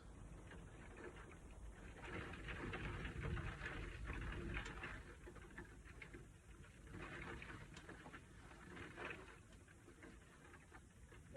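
Heavy rain pounds on a skylight overhead, a steady, dense patter and rush that swells and eases in waves, fairly close and alone.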